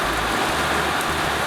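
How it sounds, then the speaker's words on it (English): Sudden heavy downpour of a cloudburst in Orlando, Florida: dense, steady roar of rain pounding surfaces, loud and continuous throughout with no voices. "this is called a cloudburst"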